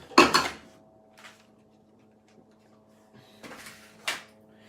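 Cutlery clinks and rattles as a teaspoon is fetched in a kitchen: a sharp metallic jangle at the start, then a few lighter clinks and knocks spaced out over quiet, with no talk.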